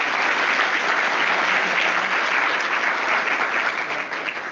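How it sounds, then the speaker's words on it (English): Dense, loud applause from an audience at a university Three Minute Thesis final, a steady wash of many hands clapping continuously throughout. "a big round of applause"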